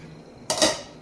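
A lid clatters onto a cooking pot of pea and paneer curry, one sharp metallic clank followed by a brief ringing rattle, close and alone after quiet.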